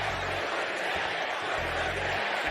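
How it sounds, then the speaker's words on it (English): A lively crowd at a boxing match cheers and shouts in a steady roar, with a few deeper whoops rising in bursts underneath. "The crowd is lively."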